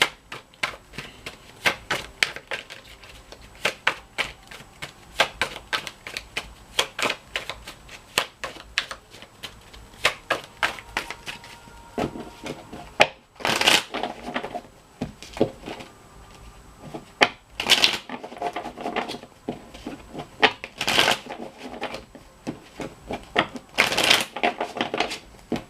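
Tarot cards are shuffled with rapid riffling and clicking for about half a minute, broken by a few louder, sharper bursts of card snaps.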